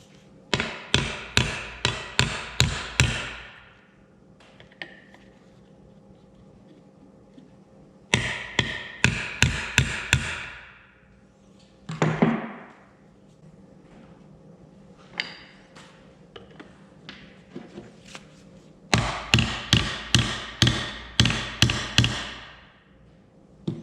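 Hammer tapping seals into the PTO housing of an Oliver 55 tractor, close sharp metallic blows in quick bursts of about eight to ten strikes each, separated by pauses with faint handling sounds.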